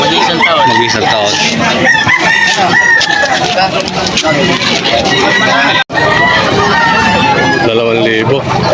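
Roosters crowing repeatedly amid clucking fowl at the busy Malolos tiangge chicken market, loud and close, layered over a constant babble of people talking.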